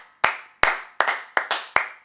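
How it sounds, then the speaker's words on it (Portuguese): Six sharp hand claps come close and loud in an uneven rhythm, each a crisp snap that fades quickly, with no other sound between them. "Nossa, palmas."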